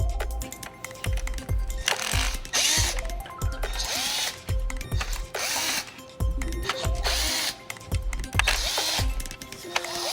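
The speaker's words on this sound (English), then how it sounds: "using our T20 Torx bit, we're going to remove screws all the way around both the radio control panel" Power driver fitted with a T20 Torx bit backs out screws around a 2019–2023 Silverado/Sierra radio control panel and black mounting bracket, in repeated short whirring bursts separated by brief pauses and light clicks, close and loud.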